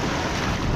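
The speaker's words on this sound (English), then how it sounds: "The wind's up, it's about to pour down." Storm wind gusts across a beach, a brief, steady rushing roar with faint surf beneath it and no voices.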